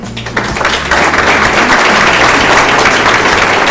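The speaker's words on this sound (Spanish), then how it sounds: "Un aplauso para el productor." An audience applauds a producer at a presentation event in Querétaro, a dense, loud burst of clapping that swells in after a brief quieter start and holds steady to the end.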